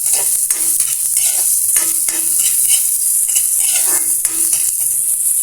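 Garlic and onion sizzle steadily in a hot pan, with a constant frying hiss and repeated scraping stirs from a spatula, close and fairly loud with no talking.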